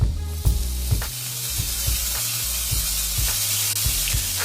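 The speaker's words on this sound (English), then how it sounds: "let's give it a little bit more sizzle" Onion and brioche buns sizzle on a hot griddle in a lamb burger cook. A steady, loud hiss runs throughout, with regular low thumps pulsing beneath it and no talk.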